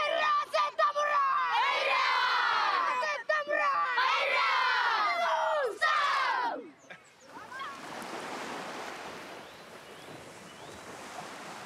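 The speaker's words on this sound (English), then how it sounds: "let's do have a cheer." A rugby team in Fiji chants and cheers together in loud, rhythmic shouts outdoors, then the voices stop abruptly, leaving wind and distant surf-like rumble.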